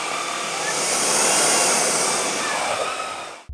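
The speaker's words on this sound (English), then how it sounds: "So when the vacuum comes in contact with heavy dirt, for example, a lot of dust, it automatically adjusts the suction." A Dreame Z30 cordless stick vacuum running close by, a loud steady high-pitched motor whine and airflow rush held for a few seconds before cutting off abruptly.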